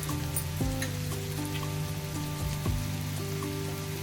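Asafoetida dropped into hot oil for a radish and dried shrimp stir-fry, giving a steady crackling sizzle with a few sharp spits and knocks over a continuous low hum.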